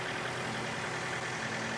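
A tractor engine runs in a park at the Royal Gorge Bridge, giving a faint, steady low drone with no break.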